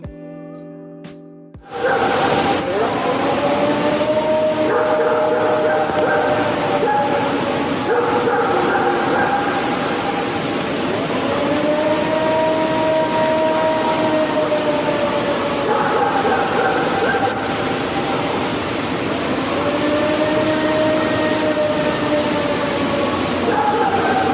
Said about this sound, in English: This is the Ohio Howl recorded in 1994.